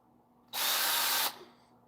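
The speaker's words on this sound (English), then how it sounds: "And I use this drill." A small handheld power drill used on a dog's teeth buzzes in one loud, sharp burst of under a second, starting and stopping abruptly amid quiet surroundings.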